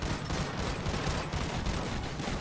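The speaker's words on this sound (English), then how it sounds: "I'm being shot at! They're shooting me!" Dense, continuous police gunfire in GTA 5, a rapid rattle of overlapping shots at steady loudness with no pauses throughout.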